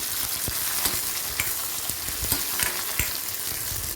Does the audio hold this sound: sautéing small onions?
yes